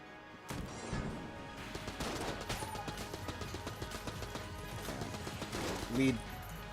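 Rapid gunfire from an AK-47 in the game Enter the Gungeon, a dense run of sharp shots with crashes and impacts through most of the stretch, mixed with game sounds and a voice talking over it.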